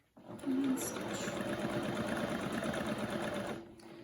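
A sewing machine runs steadily while stitching quilt patch seams through several layers, a close, even mechanical whir that starts abruptly and stops near the end.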